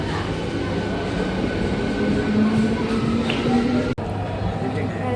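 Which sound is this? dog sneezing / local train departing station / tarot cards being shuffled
local train departing station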